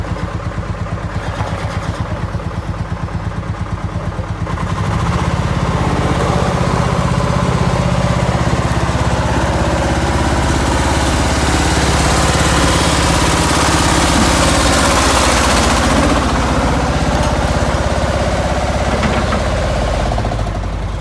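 A Bobcat 741 skid steer engine runs close by, idling with a knocking diesel chug before revving up to a louder, sustained roar that holds steady for the rest of the stretch.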